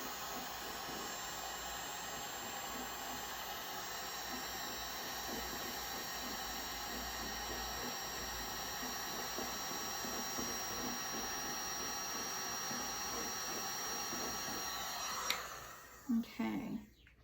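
A heat gun blows on a homemade candle with a sink hole, a steady close whooshing hum that runs unbroken before cutting off near the end into a few handling clatters.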